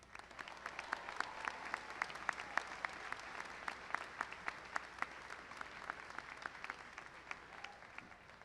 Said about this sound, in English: how about a round of applause for all the parents and caregivers in the crowd?